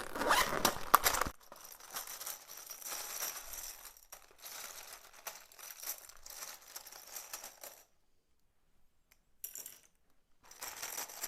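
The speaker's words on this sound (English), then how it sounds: "I'll shuffle some letters for you." Tarot cards are shuffled close to the microphone, papery rustling and riffling in irregular bursts with short pauses between them.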